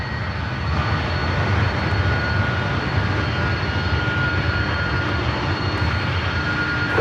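A Delta airliner powers up for takeoff at San Francisco airport, a broad steady engine roar heard from a distance and holding fairly constant throughout, with no talk.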